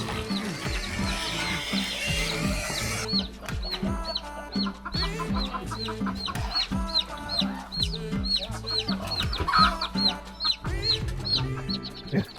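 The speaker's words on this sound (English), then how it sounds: "All the chickens." Chickens on a plantation in Niue cluck and squawk repeatedly in an irregular, busy chorus, close and fairly loud, with scattered sharper calls and a brief burst of broadband noise at the start.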